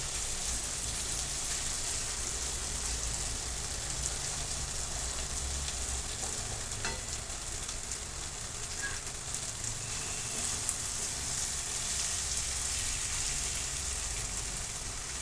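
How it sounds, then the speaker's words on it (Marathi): Spice masala roasts in oil in a pan, a steady, even crackling sizzle up close that barely changes throughout. "ह्याला तेल सुटूपर्यंत आपण भाजून घेणार आहोत"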